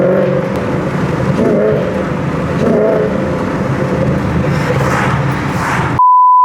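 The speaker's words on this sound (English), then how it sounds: "listen to this car." A car engine idling and rumbling low in traffic, steady near drone with slight swells, then an electronic beep tone at the end.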